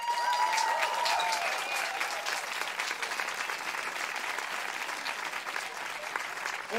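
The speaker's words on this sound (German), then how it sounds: "Und ich möchte noch einen speziellen Applaus" Audience applause at a song slam during a summer theatre festival, a dense, steady wash of many hands clapping that carries evenly from start to finish with no voices over it.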